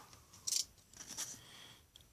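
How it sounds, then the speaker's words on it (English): A few quiet, quick scissor snips close by, short crisp cuts separated by brief pauses, with no talking. "That's way better to do it with scissors like this."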